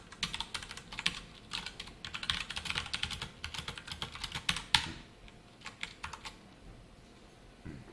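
Java code is typed on a computer keyboard in a quick, uneven run of close keystrokes that thins out to a few scattered taps in the last few seconds.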